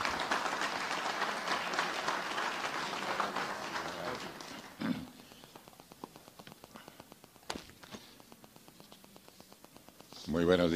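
Audience applause at a formal public gathering in Paraguay, a dense burst of clapping for about four seconds that fades away, leaving a quiet room with a voice speaking and a few small noises.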